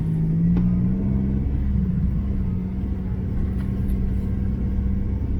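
A car with a manual gearbox rolls along a forest road near a village, its engine humming in a steady low rumble with a faint rising whine, heard from inside the cabin.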